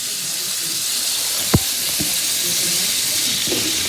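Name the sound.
onion rings frying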